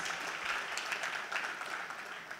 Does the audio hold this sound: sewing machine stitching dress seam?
no